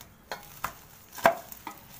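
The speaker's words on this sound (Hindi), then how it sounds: "इदां आपां फिर मिक्स कर देंगे" A spoon stirs desi ghee into a churi mixture sweetened with shakkar, giving four soft, evenly spaced scrapes and taps against the bowl over a quiet background, with no talking.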